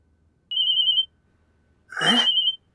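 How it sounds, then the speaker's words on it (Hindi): A telephone rings twice, two short electronic trills separated by a pause, clear and alone in a quiet room. "जो फोन कहाँ से टनटना पड़ा, कोई कभी भी कर देता फोन।"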